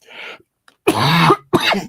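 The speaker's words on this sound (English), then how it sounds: "I've got this wicked cough going on" Three harsh coughs, one faint and two loud, a short throat-clearing burst followed by a pair of close, rough hacks.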